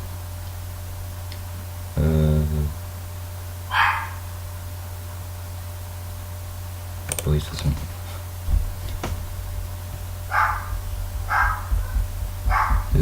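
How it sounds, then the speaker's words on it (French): A dog barks intermittently in the background, a few short sharp yaps spread apart, while someone speaks nearby over a low steady hum. "Désolé si vous entendez un chien qui aboie là"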